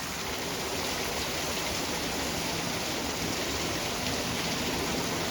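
Steady downpour in a Junagadh village, a thick, continuous wash of heavy rain at even volume throughout, with no separate thunder heard.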